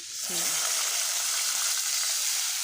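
Water goes into a pan of onions fried until reddish, setting off a sudden loud, steady hiss of sizzling and steam that swells and holds at high level, with a brief faint voice at the start.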